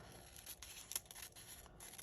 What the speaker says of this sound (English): So I'm just going to make a quick little cut with my scissors